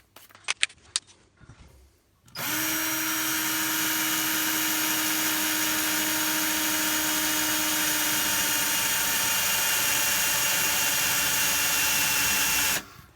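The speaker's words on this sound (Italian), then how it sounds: "riesce a forare perfettamente. Adesso utilizziamo quest'altra da 4 mm e mezzo." A 4.5 mm bit sharpened on a Parkside PSS 65 B1 drill bit sharpener drills a hole. After a few brief clicks, a loud, steady, high-pitched whine starts and holds for about ten seconds before stopping abruptly.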